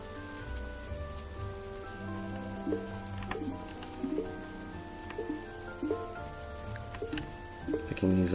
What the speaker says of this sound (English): It's just that it's raining.